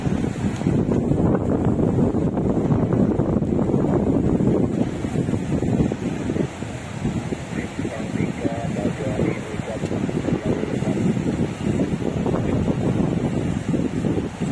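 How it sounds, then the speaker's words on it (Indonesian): Strong wind roars and buffets the microphone in a loud, steady rush, with a voice faintly audible beneath it. "Anginnya kencang sekali."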